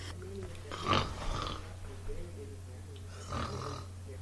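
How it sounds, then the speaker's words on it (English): A person snores over a phone line, two slow rasping breaths a few seconds apart, thin and muffled, over a faint steady hum. "Does this sound like somebody snoring?"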